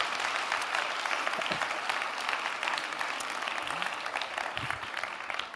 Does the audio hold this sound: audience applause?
yes